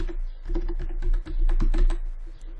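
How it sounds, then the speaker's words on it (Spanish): Keys clicking on a computer keyboard as a Control+C shortcut is pressed, a quick run of close, crisp taps with a steady low hum beneath. "Para cerrar, por ejemplo, voy a utilizar el atajo de teclado control más C."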